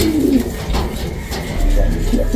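Racing pigeons, young birds of rare off-colour tiger grizzle types, give soft low coos close by, rising and fading in short bursts over a steady background hum.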